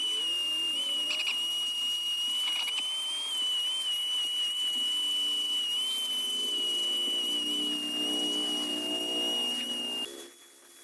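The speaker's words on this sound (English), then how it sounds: "You can see how good of a job the tornador does at just blowing all the crud out from the carpet and the crevices" An air-powered Tornador cleaning gun blasts dirt out of the carpet of a dirty Scion FRS, giving a steady high whistling hiss over a constant air roar that cuts off near the end.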